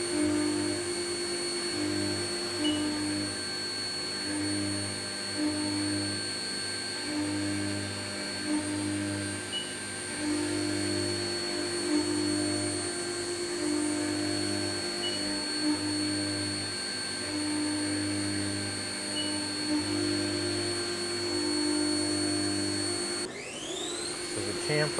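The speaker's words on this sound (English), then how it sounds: "Now this is the adaptive feed rate at only 20 inches a minute." A HAAS Mini Mill CNC machine cuts soft jaw blanks at an adaptive feed rate, giving a steady tonal hum with a pulsing, rhythmic cutting drone that goes on for about twenty-five seconds.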